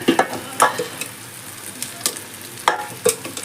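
Pieces of goat head hit hot oil in a pan, giving sharp bursts of sizzling and stirring scrapes in quick irregular strokes, close and fairly loud, with no speech.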